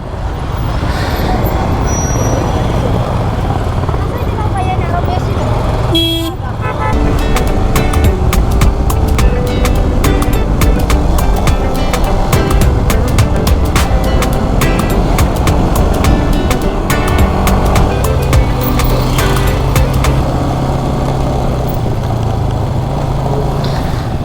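Triumph Tiger 900 motorcycle riding along a road near Srimangal, a loud continuous engine and wind roar with passing traffic and a brief dip midway.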